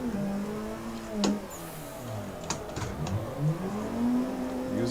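A car engine in a drifting video game, sustained revving with pitch rising and falling through slides and throttle changes, a few sharp clicks over the steady engine drone.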